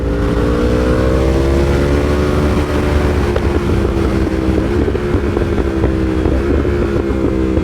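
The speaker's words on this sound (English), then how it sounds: "Listen to those downshifts. That is sweet." A loud Yamaha R1M sport motorcycle engine roars continuously nearby, its pitch stepping down through several downshifts with wind buffeting the microphone.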